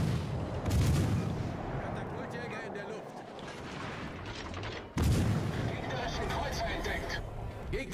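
Heavy naval guns from the battleship King George firing in World of Warships Legends, deep booming blasts over game noise, with a voice talking over them.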